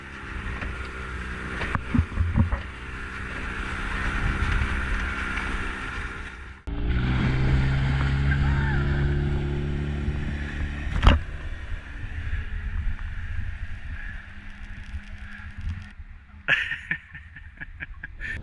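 A boat engine drones steadily for a long stretch, with wind and water noise, the pitch shifting as the motor changes speed, towing wakeboarders in Fakarava, French Polynesia.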